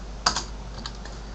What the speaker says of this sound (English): hit B on the keyboard to get our brush